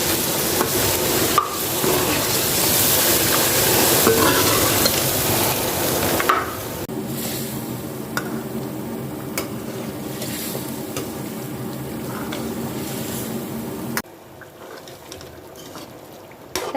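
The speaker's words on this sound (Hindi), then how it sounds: "दही डाल के मैंने अच्छी तरह भून लिया है" Chicken and yogurt frying in a pan, a steady sizzle with scraping stirring strokes. It is loudest at first, then softer and steadier, and drops lower near the end.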